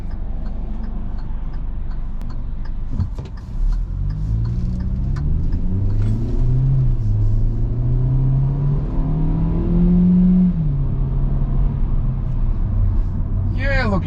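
A 2021 Hyundai Venue small car accelerates on the road, its engine note climbing and falling through gear changes with a steady rumble, while a voice talks intermittently over it.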